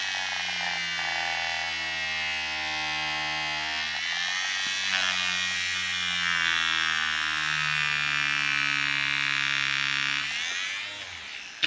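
A vehicle speedometer's small electric motor, disassembled with its magnets pulled toward surrounding metalwork, whines in a steady buzzing drone whose pitch sags and wavers as it slows, close and continuous before cutting off near the end.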